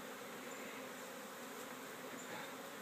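A large swarm of bees crowded into an enclosure makes a continuous, dense buzzing drone, steady and close, with no speech over it.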